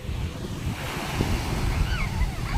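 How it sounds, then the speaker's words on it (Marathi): Sea waves break on a rocky shore in a steady, rushing wash of surf mixed with gusty wind buffeting the microphone, with faint voices in the distance. "ओ हो हो, समुद्र समुद्र."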